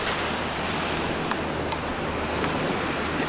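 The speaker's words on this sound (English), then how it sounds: "the further up the coast we go, the more intense the waves get" Ocean waves breaking on a Greek beach along the coast near Marathias, a dense, constant roar of surf with wind buffeting the microphone and no distinct pauses.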